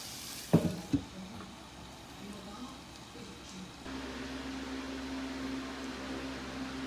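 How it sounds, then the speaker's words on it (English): A whole head of shredded cabbage frying in a pan, a couple of sharp clanks at first, then a steady close sizzle with a faint hum underneath and no talking. "I recommend putting the whole head of shredded cabbage in the pan, because it will cook down."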